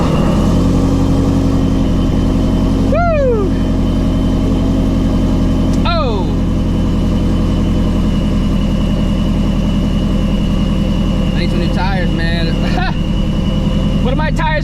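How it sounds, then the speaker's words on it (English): A Ford Mustang engine idles at a steady low rumble after a cold start, loud and continuous throughout, with a few brief squeaky sounds on top. "Now let's go ahead and get a cold start."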